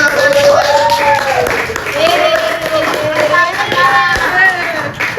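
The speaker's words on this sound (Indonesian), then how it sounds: "sekali lagi tepuk tangan untuk mereka bertiga" Studio audience at an Indonesian podcast clapping for three guests, a short burst of claps mixed with lively talking and laughter that stays prominent throughout.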